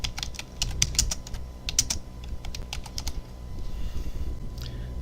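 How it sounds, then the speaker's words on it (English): Close, crisp keystrokes on a computer keyboard come in quick bursts with short pauses, clattering steadily over a low background hum before thinning out near the end. "let me type it in"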